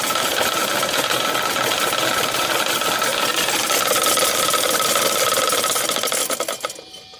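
A spinning magnet device strikes a plastic plate in rapid, continuous buzzing rattles, loud and steady for several seconds before winding down at the end, with no talking.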